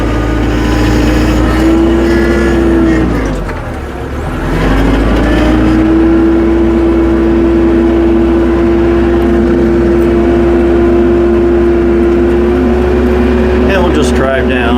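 A tractor fitted with pewag Doppelspur snow chains drives down a snowy driveway, its engine a loud steady drone that dips briefly then holds, close up, with a voice talking over it.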